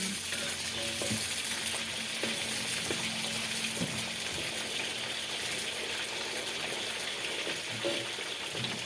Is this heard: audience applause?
no